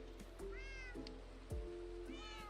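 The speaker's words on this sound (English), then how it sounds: "Noisy cat." Two rising, drawn-out meows from a house cat sound close and clear over a low steady hum, with a faint tap or two between calls.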